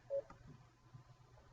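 Telephone dialing tones from a receptionist thin client phone system, a single short faint beep followed by quiet background hiss.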